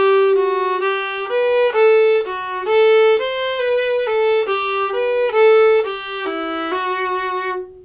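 A fiddle plays a slow phrase of the old-time tune Big Sciota, sustained notes each held for about a second, clear and close with no voices.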